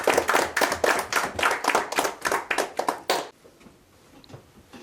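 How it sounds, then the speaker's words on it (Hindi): Clapping from a group at a retirement party, a burst of brisk rhythmic hand claps for about three seconds that stops abruptly into quiet room tone. "जोरदार तालियों से स्वागत करें।"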